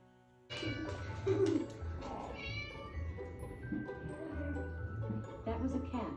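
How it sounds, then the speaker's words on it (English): A domestic cat meows several times in short, close calls over a low background hum, with faint voices in the room. "That was a cat."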